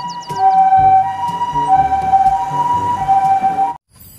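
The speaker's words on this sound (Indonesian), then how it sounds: "Wow, ada mobil ambulan." Siren of a toy ambulance, loud and close: a steady electronic wail with a few short beeps, cutting off abruptly near the end before faint background sound.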